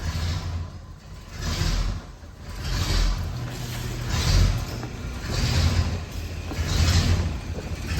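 A 1965 Chevrolet Impala Super Sport convertible engine idles a little low with the air conditioning running, a steady close rumble that swells and eases in slow, regular pulses about once a second.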